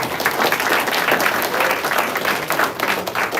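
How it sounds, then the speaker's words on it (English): A hackathon audience breaks into a short burst of loud, dense applause with some crowd noise mixed in. "I think that deserves a round of applause, you guys"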